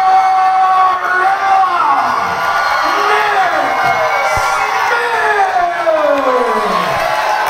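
A crowd at an MMA fight night cheers and whoops loudly and continuously, with shouts and rising and falling yells over a dense roar, close and sustained.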